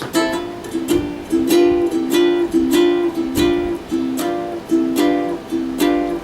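Chords strummed on a stringed instrument with the left hand lifting off and pressing back on, a steady rhythm of sharp strokes about every 0.6 seconds, close and fairly loud, with no talking.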